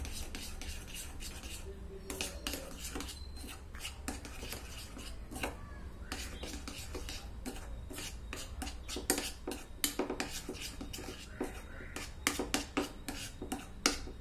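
A spoon stirs pizza sauce made with red chilli powder in a bowl, giving a run of close, sharp scraping and clinking taps against the bowl, irregular and quickening toward the end, with no talking.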